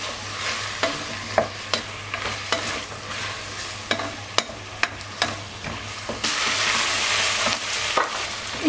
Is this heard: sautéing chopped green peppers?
yes